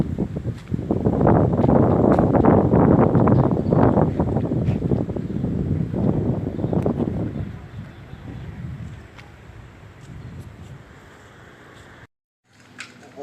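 Strong wind buffets the microphone at a kite-flying spot in rural Isan, Thailand, loud roaring gusts for the first eight seconds, then easing to a lighter rush with brief silence near the end; people talk over it.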